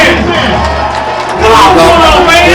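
Crowd at a high school football game between Marlboro County and Myrtle Beach rises into loud, sustained cheering and shouting, swelling midway as the home side fires up the stands.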